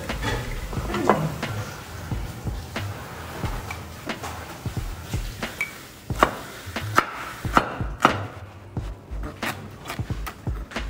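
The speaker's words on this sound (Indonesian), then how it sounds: "Kalau sambal harus diulek ya, tidak bisa di blender." Pineapple sambal (sambal nanas) ground by hand with a mortar and pestle gives repeated irregular knocks and pounding thuds, with scraping between strikes, close and steady over about eleven seconds.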